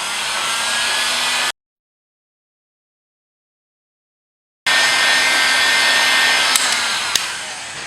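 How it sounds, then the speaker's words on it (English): A heat gun gently heats a region of a polypropylene orthotic shell, a loud steady blowing roar that drops out into silence for about three seconds, then resumes, with a couple of faint clicks near the end. "To lower the arch, I'm going to heat the region that I need to lower gently with a heat gun."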